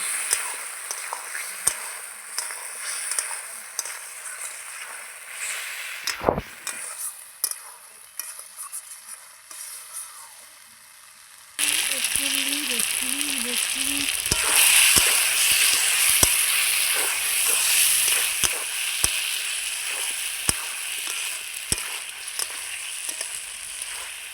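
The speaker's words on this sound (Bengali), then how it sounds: "এই মশলার সঙ্গে আমি আলু আর টমেটোটা আবারও খুব সুন্দর করে কষিয়ে নেব" Potatoes and tomato fry with ginger, cumin and chili in a pan, with a quieter stretch of light stirring followed by a louder, steady sizzle with repeated spatula strokes.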